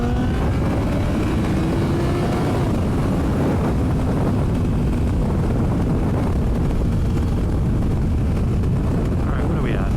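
A motorcycle rides along a road and accelerates, its engine droning loud and steady with rising pitch, heavy wind rush over the microphone throughout.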